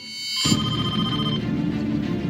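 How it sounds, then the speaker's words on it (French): Landline telephone ringing in an apartment, a loud, steady electronic ring that starts abruptly and continues without pause. "son téléphone fixe sonne"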